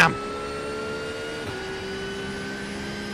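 Race car engine in the iRacing video game at Road Atlanta in an IMSA race, holding a steady high-pitched whine with a brief shift in pitch midway, following a sharp loud onset.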